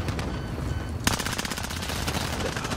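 Enemy machine-gun fire in an online shooter rattles in a sustained rapid burst, one sharp loud crack standing out at the start, dense and continuous with no voices over it.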